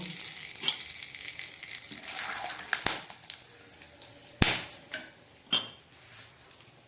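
Whole spices, dried chilli, bay leaf, cardamom and clove, frying in hot oil, with a soft continuous sizzle broken by sharp pops and clinks of a utensil against the pan, no voices.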